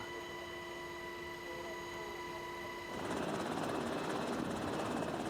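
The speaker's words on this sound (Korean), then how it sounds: "헬기가 이륙하자 대원들의 움직임도 바빠집니다." A military rescue helicopter takes off over the sea on a cold winter day. Its engine whines steadily, then the rotor roar swells into a louder, denser wash partway through, close and continuous.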